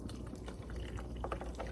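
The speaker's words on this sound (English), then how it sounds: "I think I'm going to put in a little bit of sparkling water." Sparkling water being poured into a peppermint milkshake, a quiet low bubbling fizz with small irregular drips and splashes, faint and close, with no talking.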